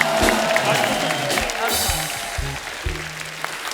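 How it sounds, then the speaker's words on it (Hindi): A comedy show's studio audience claps loudly for the guests, the Ali Brothers qawwali group: a dense burst of applause with some cheering and crowd noise, easing off, as a voice speaks over it. "एक बार हमारे मेहमानों के लिए जोरदार तालियां हो जाएं"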